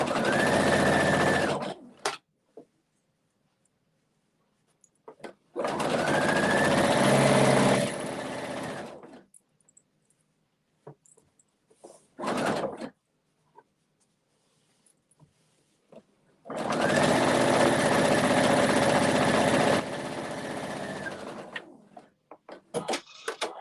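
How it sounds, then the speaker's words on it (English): A sewing machine stitches a pillow pieced from fabric scraps in three loud, rapid bursts with quiet gaps between them and a few short taps, heard up close. "I'm sewing backwards a little bit"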